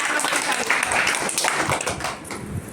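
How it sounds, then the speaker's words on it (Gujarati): A classroom of students applauds a classmate named Yash, with a brief burst of many hands clapping close by that tapers off toward the end. "યશ માટે તાળી."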